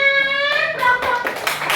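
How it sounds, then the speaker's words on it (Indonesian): A classroom of children clap their hands together in response to a teacher, with a busy burst of claps over lingering voices and tonal chatter at the start. "Tepuk tangannya mana?"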